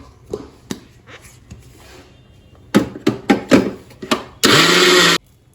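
Short bursts of a kitchen mixer grinder blending sesame with ghee: a few faint taps and knocks, then several loud pulses and one sustained roaring burst close by, with no talking.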